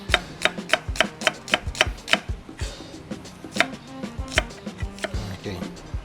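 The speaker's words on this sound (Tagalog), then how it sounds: "Slice your onions." A knife slices onions on a cutting board in quick, steady strokes, each cut landing as a crisp knock in an even rhythm, with a brief pause midway before the chopping resumes.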